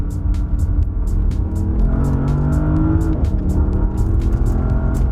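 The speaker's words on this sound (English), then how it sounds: "listen to this motor" A luxury limousine engine revs hard, a loud close roar that climbs in pitch and then drops, with a rapid ticking patter over the steady drone.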